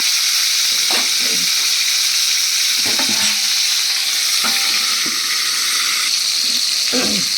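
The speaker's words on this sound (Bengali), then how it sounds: "দেখো তেলটা কিন্তু গরম হয়ে গেছে, এর মধ্যে আমি পটলগুলো একে একে দিয়ে দিচ্ছি" Pointed gourd pieces frying in hot oil give a loud, constant sizzle, with several brief clatters and stirring or placing sounds spread across the sizzle.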